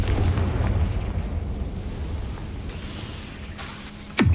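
A Confringo fire spell bursting in the Hogwarts Legacy video game, heard as a rumbling, crackling roar that slowly fades, then a sharp whooshing impact hits right at the end.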